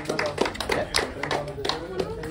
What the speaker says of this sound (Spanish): les doy el aplauso para Stretch, banda.